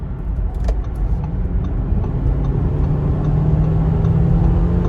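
A 2021 Audi Q5e SUV accelerates hard to pass on a highway, its engine and road noise a steady, loud, continuous drone with a rising low tone.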